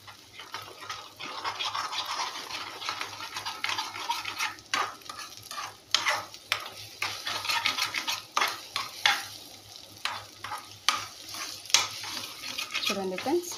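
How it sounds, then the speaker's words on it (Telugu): Egg frying with ponnaganti leaves in a pan, stirred steadily with scraping utensil strokes and a soft sizzle underneath, close by and moderately loud throughout. "ఉండలుండలుగా వచ్చేంత వరకు బాగా ఇట్లా వేయించుకొని మళ్ళీ ఆకుకూర మొత్తం కలిపేసుకుంటే సరిపోతుంది"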